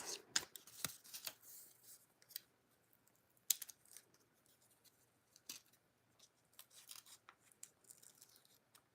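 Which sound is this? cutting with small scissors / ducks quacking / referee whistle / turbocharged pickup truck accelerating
cutting with small scissors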